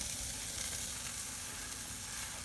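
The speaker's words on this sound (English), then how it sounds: "we have a little flare up going on with the sausage" Sausages sizzle and crackle on a grill during a flame flare-up, a steady quiet frying hiss with no talking.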